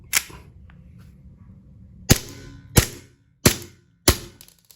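Four sharp, snappy gas BB pistol shots ring out at roughly even intervals after a brief earlier pop, each loud and close with a quick decay.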